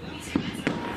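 New Year's Eve fireworks go off in foggy night air, two muffled pops a moment apart, fairly distant, heard over people talking nearby.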